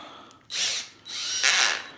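A power drill with a faulty clutch that no longer locks correctly runs in two loud, close bursts of high whining buzz, each about half a second long, with a short pause between them.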